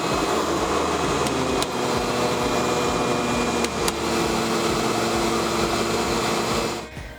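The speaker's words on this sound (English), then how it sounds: "as soon as you hear that different tone while the vacuum's running" An upright vacuum cleaner runs steadily with a loud, continuous motor whine and airflow hum, a couple of brief clicks along the way, the drone easing off just at the end.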